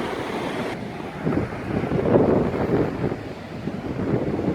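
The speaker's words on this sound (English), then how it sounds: "Oh, lovely breeze. Sounds are amazing. I don't know what it is about the ocean, it's just very cool." Ocean surf rolls steadily onto a Mexican beach while a breeze buffets the microphone, giving a continuous wash of waves and wind with no voices.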